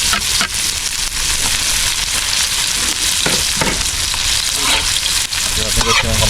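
Onion and garlic sautéing in a hot pan, a loud, close, continuous sizzle and crackle of frying with occasional stirring scrapes, at a creek-side outdoor cooking setting, no speech.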